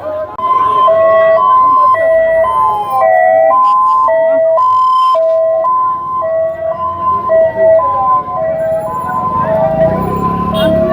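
An ambulance siren wails in a repeating two-tone pattern, loud and close, as it moves through a crowded Rath Yatra procession in Mayapur, with crowd noise and talk underneath.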